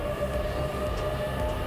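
A passenger train on the Iizaka Line in Fukushima, Japan, rumbling at a railway depot with a steady low rolling drone and a faint sustained tone above it, moderately close and without speech.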